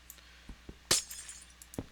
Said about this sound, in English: It still kind of hurts my soul every time I have to break a piece of glass, though.